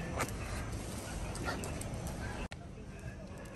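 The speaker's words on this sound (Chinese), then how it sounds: "哇，刚才这只泰迪很凶啊。" A small toy poodle yaps and whimpers in short excited bursts nearby during an evening walk, with people talking over it and a brief cut near the end.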